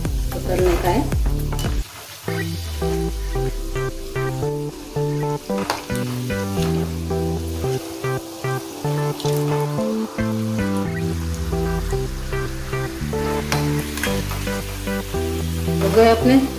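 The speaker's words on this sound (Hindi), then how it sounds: "थोड़ा गोल्डन ब्राउन होने तक इसको तलने का है" Food fries in hot oil until golden brown, giving a continuous sizzling hiss with occasional stirring, mostly buried under loud background music for the whole stretch.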